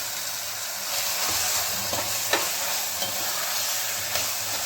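Onion and tomato fry in a pan for brinjal bartha, a steady low sizzle with repeated light scrapes and taps of a stirring spoon.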